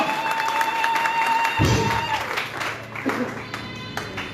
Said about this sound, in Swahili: Pigia Bwana makofi na vigezo